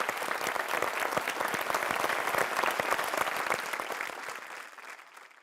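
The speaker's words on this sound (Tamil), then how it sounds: "நாம மறுபடியும் ஒரு தடவை கைத்தட்டி" A studio audience at a televised talk show claps steadily in a dense, sustained round of applause that gradually fades away toward the end.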